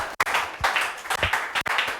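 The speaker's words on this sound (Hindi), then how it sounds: "ताली है इस बच्चे के लिए।" Audience claps for a student at an award ceremony honouring selected students, a short burst of hand claps in uneven rhythm, close and moderately loud.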